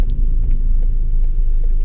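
A Ford Focus ST fitted with a stiff rear motor mount drones with a loud, steady low engine rumble from inside the car, without speech.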